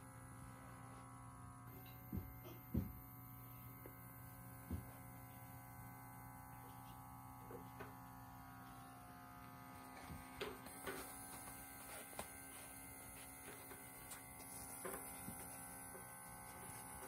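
An Invospa leg massager running, giving off a faint, steady electric hum and buzz with a few soft clicks and small mechanical shifts over about seventeen seconds, no speech.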